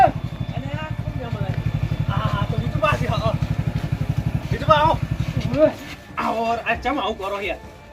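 A motorcycle engine idles with a steady, throbbing low putter for several seconds while people talk loudly over it, then the engine cuts out and only the voices carry on.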